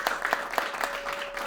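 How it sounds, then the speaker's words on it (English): Brief applause from a community gathering celebrating Black History, a short burst of scattered hand clapping from a modest crowd, lasting about a second and a half with a faint steady tone beneath. "Round of applause, everyone."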